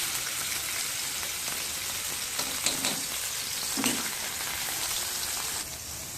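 Ground meat sizzles in hot oil with garlic in a pan, a steady, moderately loud frying hiss with a few sharper crackles and spits scattered through it.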